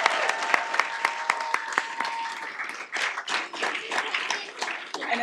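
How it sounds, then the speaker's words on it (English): Applause from a council meeting audience, starting as sparse distinct claps that thicken into a steady, moderately close round of clapping, with faint chatter underneath. "Let's give them a big round of applause."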